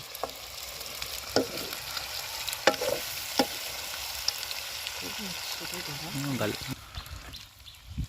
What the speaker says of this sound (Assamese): চাক আমাৰ গাহৰি পৰি গৈছে তেলত